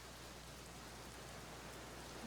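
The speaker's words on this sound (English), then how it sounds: "This rain is really drowning out your voice." Steady rain in the video game Black Mirror, a constant, even hiss of falling water with no breaks and no talk over it.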